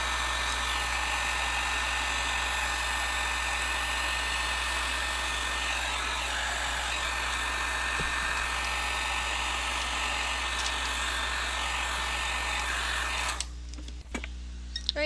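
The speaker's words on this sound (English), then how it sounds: "I'm gonna use clear embossing powder with glitter, and I'm gonna heat set it." A craft heat tool blows a loud, constant fan roar while heat-setting clear glitter embossing powder, then switches off near the end, leaving faint handling clicks.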